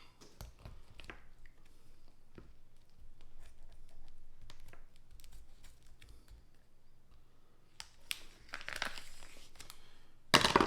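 Plastic packaging around a rack of baby back ribs being cut and pulled open, faint scattered crinkles and rustles close by, ending in a louder burst of crackling plastic.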